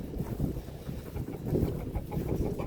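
Chickens and a rooster on a home farm: soft clucks and low fowl chatter close by, over a rumbling, wind-like background.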